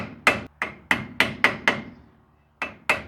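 A light hammer gives a 1950 DeSoto Custom part eight crisp, close taps in a quick uneven rhythm, with a short pause before the last two.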